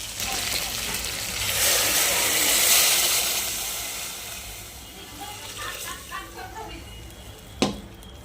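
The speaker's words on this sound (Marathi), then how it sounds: "आता आपण यामध्ये गरम पाणी सोडणार आहोत." Hot water poured into fried paya (goat trotter) curry: a broad hiss of pouring water that swells and fades, followed by a sharp clink near the end, with a voice talking in the background.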